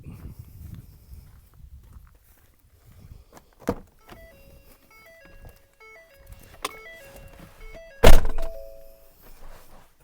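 A truck door thunks shut, an electric window whirs in short stepped bursts, then a loud slam and rustling movement inside the cab.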